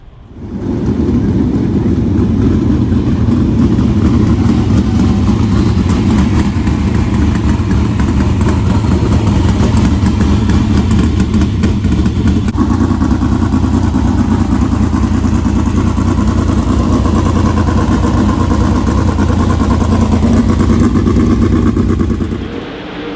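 A pack of 360 sprint cars runs on the dirt track at Skagit Speedway during hot laps, a loud continuous engine roar and clatter that stays steady throughout, heard from nearby.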